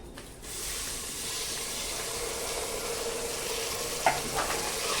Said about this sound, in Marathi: छान हलवून घ्यायचं